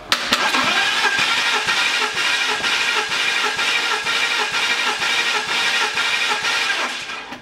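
BMW M54 inline-six from an X5, cranking on the starter during a cold-engine compression test, a fast steady rhythmic churning that runs loud and close for several seconds before cutting off, with no talk.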